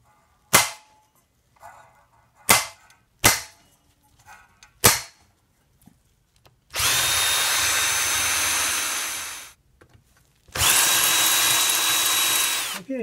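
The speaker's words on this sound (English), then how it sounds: "I'm going to go ahead and drill these holes" A few sharp, isolated clicks and knocks, then two long bursts of a power drill whirring loudly while drilling holes for mounting a transformer in a Zenith 4-B-231 farm radio, each lasting a few seconds with a pause between.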